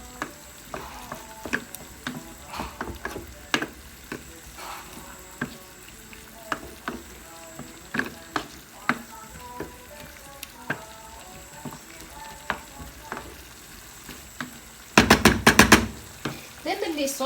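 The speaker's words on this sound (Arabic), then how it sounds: "وهنا نضيفوا المرقاز اللي كنا قطعناه، خلطوه هنا مع لاصوص" Cut merguez sausage sizzles softly in sauce in a pan while being stirred, with intermittent spoon knocks and scrapes against the pan and a louder burst of clatter near the end.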